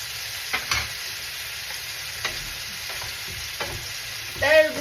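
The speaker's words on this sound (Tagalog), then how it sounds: "Prituin na po natin yung ating lamb." Lamb pieces frying in a hot pan with a steady, close sizzle and a few brief stirring clatters. A short voiced sound comes in near the end.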